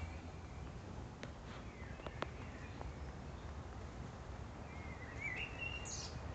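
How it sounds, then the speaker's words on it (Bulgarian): Small birds chirp and call in a city park in Sofia, a few faint high tweets and a brief trill scattered over steady distant background hum, with no talking. "А иначе парка е страхотно. Пеят птички."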